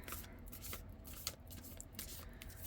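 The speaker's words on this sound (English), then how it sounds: "All right, so if you don't like the shuffling sound, fast forward through this." A deck of tarot cards is shuffled by hand, producing quick, repeated papery riffles and soft slaps at close range, quiet and continuous with no voices.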